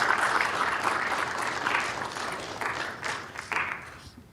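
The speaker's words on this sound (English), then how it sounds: "Let's give them a round of applause." An audience applauds at a Norwalk city council meeting with a dense wash of clapping that fades gradually over about four seconds, with voices faintly mixed in.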